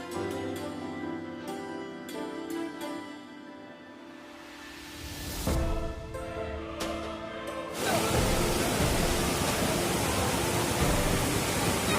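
Rushing water from Manimuthar waterfall swells into a loud, constant broadband roar after several seconds of tonal music, then continues unbroken to the end.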